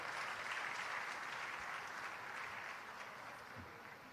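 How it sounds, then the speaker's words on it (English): At an international health conference, an audience applauds as children mount the stage, a soft, even spread of many hands clapping that gradually thins toward the end. "let's once again give them a big round of applause"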